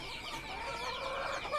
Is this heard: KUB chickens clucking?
yes